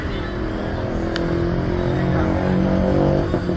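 A Honda Gyro X three-wheeled scooter's small engine idles and hums steadily nearby on a street in Chiang Mai, amid traffic noise.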